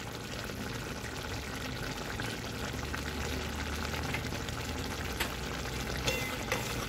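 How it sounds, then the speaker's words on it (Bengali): Raw mustard oil goes into a simmering sour curry of small morola fish, giving a soft, steady bubbling sizzle at low volume with faint stirring clinks near the end. "আর দেবো একটু কাঁচা সর্ষের তেল।"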